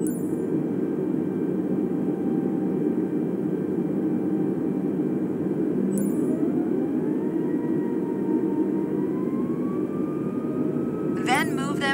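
Airbus A320 engines in Microsoft Flight Simulator spool up as both thrust levers move forward, a steady broad roar with a rising whine building over several seconds, continuous and fairly loud, with a brief chirp near the end.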